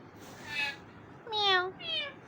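A pet parrot named Mittu imitates a cat's meow three times in quick succession, each call short and fairly faint against a quiet room.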